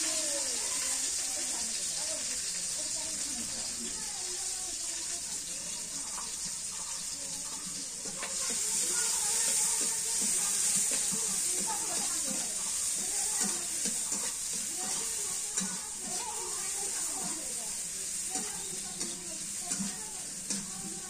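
Chopped onion and green chili frying in a pan, a steady hiss of sizzling oil with scraping and stirring sounds, growing slightly louder midway, running continuously without voices.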